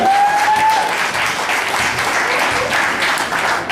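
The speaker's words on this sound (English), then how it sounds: "a nice warm round of applause for Nicholas Levy." Warm, steady applause from a large audience at a poker final table fills the space, a continuous wash of clapping with a faint tone at the start.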